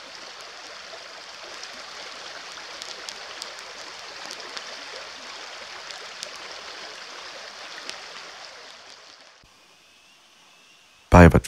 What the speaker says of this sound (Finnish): Kun puron solina ja tulen ritinä ovat ainoat äänet